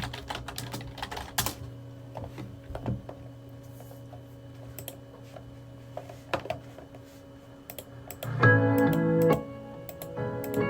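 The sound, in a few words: tapping rhythm on computer keyboard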